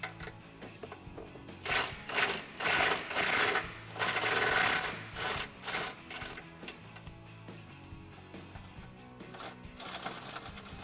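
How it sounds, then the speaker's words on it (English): Impact gun with an 18 mm socket spinning nuts off the outer studs of a Jeep Wrangler JL front bumper: several loud rattling, hammering bursts close by, then quieter workshop noise. "I'm going to use an 18mm socket to remove the 2 nuts on the outside studs"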